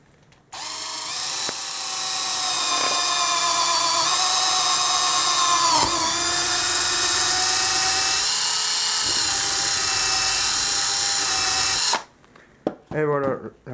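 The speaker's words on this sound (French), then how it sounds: "On va percer un trou de diamètre 6 tout simplement" A power drill bores a 6 mm hole in a homemade camera support, running steady and loud for about eleven seconds with slight pitch dips as the bit bites, then stopping, followed by a few brief clatters.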